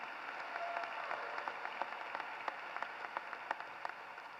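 Graduation audience at a 2017 high school commencement clapping steadily in a large crowd, dense soft applause with scattered sharper claps rising out of it, continuous and moderately distant throughout.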